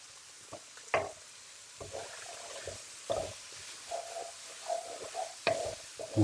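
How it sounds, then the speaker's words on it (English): Chopped tomatoes go into a pan of lamb mince and potato curry, bringing quiet sizzling and a few soft stirring scrapes and thuds at irregular intervals, heard close up without talk. "I'm going to add all of the chopped tomatoes in as well now."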